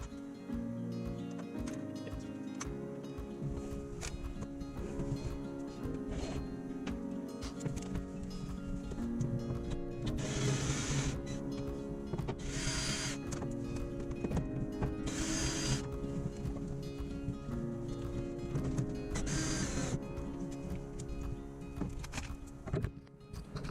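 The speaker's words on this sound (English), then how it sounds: "So I've removed all the bolts that are holding this bulkhead on." Socket wrench ratcheting bolts out of a van bulkhead, repeated clicking ratchet strokes in bursts with metallic clatter, fairly faint and close throughout.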